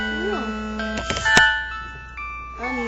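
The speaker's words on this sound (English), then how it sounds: "I've never had that ringtone" A phone rings with an unfamiliar melodic ringtone from an unknown caller, its bright tune repeating for a few seconds amid the murmur of a quiet room, with voices briefly nearby.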